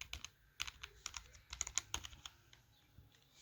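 Arrow keys are pressed on a computer keyboard, giving close, crisp plastic clicks in an irregular run of single taps and quick bursts, with no voice.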